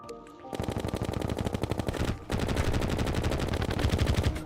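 Rapid automatic gunfire from venom bullets in modded Terraria (tModLoader) during a Moon Lord fight, loud close bursts of tightly repeated shots that stop briefly midway and then resume without a break.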